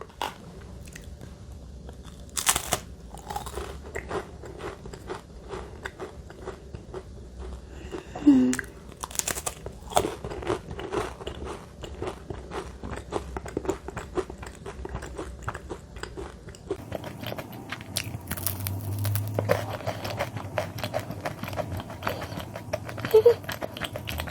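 Crunchy biting and chewing of crunchy bakery bread, close up, with crinkling wrapper sounds and scattered clicks throughout, quiet and intermittent.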